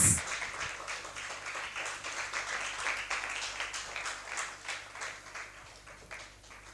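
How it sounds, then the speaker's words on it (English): An audience at a law conference applauds a keynote speaker, a steady, moderately loud wash of clapping sustained throughout, with a brief louder burst at the start. "Please give her a resounding round of applause."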